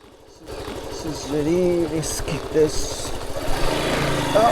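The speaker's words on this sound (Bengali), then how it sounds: "অ্যাকচুয়ালি আমি বিলের মধ্যে দিয়ে বাইক চালাচ্ছি।" A motorbike rides off-road across a dried-up wetland, its engine a steady, close, buzzing drone that grows louder and rougher as it moves on, with a voice faintly heard at times.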